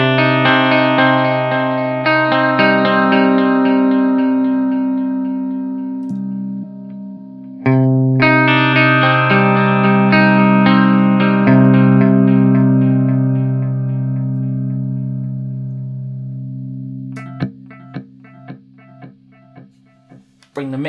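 An electric guitar through a vanilla digital delay setting, Line 6 Helix versus Strymon Timeline, plays chords and single notes with repeating echoes trailing behind each one, ending with short plucked notes bouncing back through the delay.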